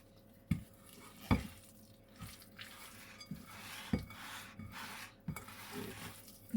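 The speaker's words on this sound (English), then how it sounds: "I've just put my flour in here, and I'm going to mix it all together" Flour is stirred into muffin batter in a mixing bowl, giving soft rubbing strokes punctuated by spaced dull knocks of the utensil against the bowl, quiet and close with no talk.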